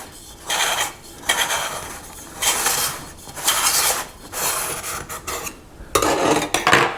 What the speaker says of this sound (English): I'm taking a butter knife and I'm just going to scrape around the outer edge